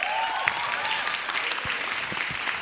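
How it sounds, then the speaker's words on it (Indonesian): Audience applause at a stand-up comedy roast show, dense steady clapping from a crowd filling the whole stretch, with no voices over it. "Tepuk tangan dong."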